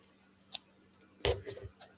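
Small scissors snip the corner of a miniature dollhouse long sofa: one faint close cut, then a louder cluster of crisp snips and rustles, with no voice.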